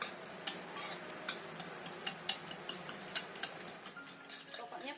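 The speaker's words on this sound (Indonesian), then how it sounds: "Kita aduk sampai tercampur rata." A spoon stirs a mashed potato and sago pearl pudding mixture in a pot, giving repeated light clinks and scrapes in an uneven rhythm, close and fairly quiet, with no voices.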